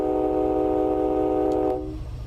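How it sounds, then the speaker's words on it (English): An MBTA commuter train horn in a train simulator game blares in one long, loud sustained blast that cuts off sharply, leaving low rumbling engine noise underneath. "It is a cool horn, but it'd be very loud in a building like this"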